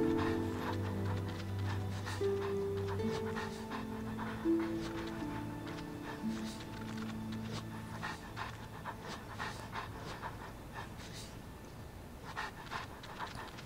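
Several dogs pant rhythmically in Genshin Impact, quick breathy huffs close and steady over soft background music.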